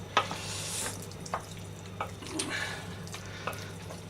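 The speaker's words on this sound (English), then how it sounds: "So in goes the fish, and mix it around in that gorgeous sauce" Fish being stirred into sauce in a pan for a fisherman's pie, soft scraping and wet stirring strokes over a faint steady sizzle, quiet and close, with no talk.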